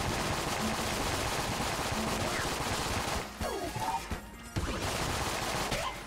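Rapid automatic gunfire from the video game Enter the Gungeon, a dense continuous barrage of shots that briefly drops out before resuming, loud and close, with faint game effects mixed in.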